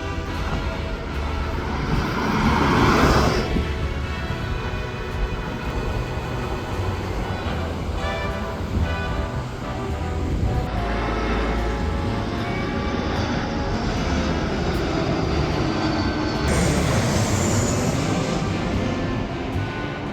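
A loud jet aircraft, like a fighter jet, roars overhead by the coast on Jeju's Olle trail 17 route, a long, heavy rumble that swells and fades over about twenty seconds, with no talking.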